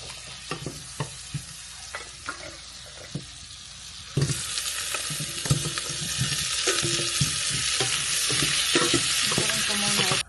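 Ginataang shrimp with squash cooks in coconut milk in a pan nearby. Utensils clink and scrape as it is stirred, and partway through a louder, steady sizzle starts up, with no talking.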